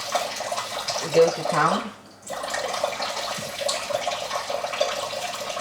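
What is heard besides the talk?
water wetting hands while cooking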